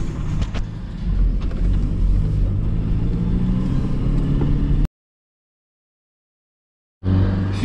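Car engine rumbling as the vehicle drives off, a steady close motor drone that cuts out abruptly partway through and returns near the end.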